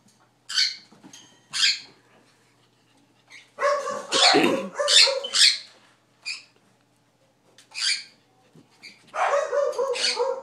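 A small puppy yips and barks in short, high-pitched bursts, close by, with some longer clusters of excited barking and quiet gaps between.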